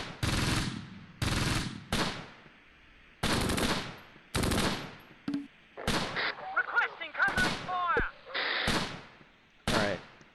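Repeated bursts of gunfire in the Close Combat: Gateway to Caen game, fighting at Mouen in Normandy, 1944: sharp loud volleys and short bursts recurring through the clip, with faint radio-like voices between shots.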